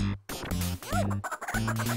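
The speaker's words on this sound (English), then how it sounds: "now the chickens are all over" Video game chickens clucking in Toejam & Earl on the Sega Genesis, a series of short synthesized clucks in bursts over a steady low game music bed, loud and close.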